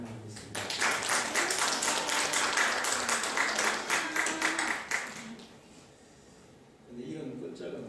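A church congregation claps in welcome during a Sunday morning service. The applause is dense and sustained for about five seconds, then fades out, and a voice picks up speaking afterward.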